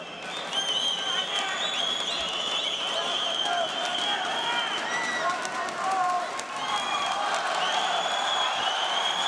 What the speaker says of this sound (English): The crowd are screaming